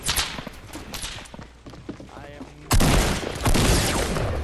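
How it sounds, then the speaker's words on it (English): Rapid gunfire in the video game Fortnite, a string of sharp cracks at first, then a louder, denser burst of shots near the end, with talk mixed in. "I'm getting shot at."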